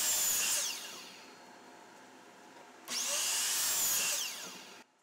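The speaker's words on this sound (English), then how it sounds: "drilled two pocket holes on each end of all four." A power drill boring pocket holes into 2x4 lumber, two distinct high whining bursts that spin up and wind down, close and loud, with a quieter gap between them.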